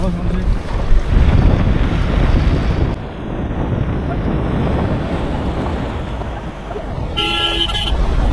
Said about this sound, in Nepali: यस्तो हावा चल्छ